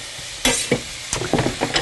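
Pears are stirred into hot, bubbling butter in a pan, bringing bursts of sizzle and scraping stir strokes over a low, steady frying hiss, close and loud.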